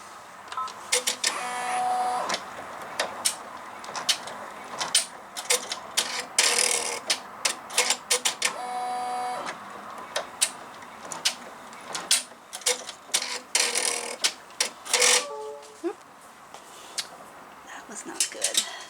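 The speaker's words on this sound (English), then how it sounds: "This is a quick thing to stitch out." An embroidery machine stitches out a fabric reusable straw snap case, giving a rapid mechanical ticking and clattering run that starts, pauses and restarts close by, with quiet background music underneath.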